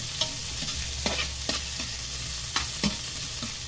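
Red onion sautéing in a pan with Filipino home cooking, a soft continuous sizzle under a low steady hum, broken by a few light stirring clicks and taps.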